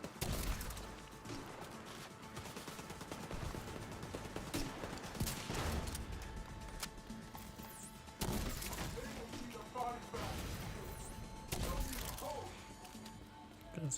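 Gunfire from the Ivory rifle in The Division 2 video game, bursts of shots and crashes scattered through a busy game soundscape, fairly faint with sharp peaks, with occasional speech over it.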